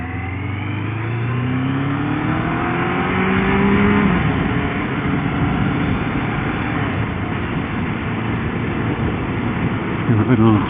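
A car engine revs hard while held in first gear at about 4,000 RPM and 40 mph. The steady, close engine drone climbs in pitch over the first few seconds, then holds at a loud sustained pitch.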